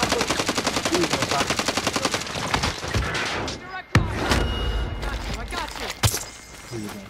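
Rapid machine-gun fire in a shooter video game, a dense stream of evenly spaced shots that thins into scattered single cracks and impacts, loud and close, with people talking over it.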